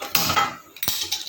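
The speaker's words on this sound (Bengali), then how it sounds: "একটা কড়াই বসিয়ে দিলাম" A wok set down on a gas stove gives two quick metallic clanks close by, with a brief ringing after each.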